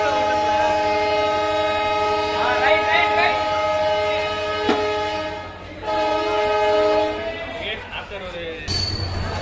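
The new Rameswaram–Tambaram Pamban Express pulls out of Ramanathapuram station: a loud, sustained horn sounds in long blasts over the steady rumble of the moving train, with a sharp knock partway through.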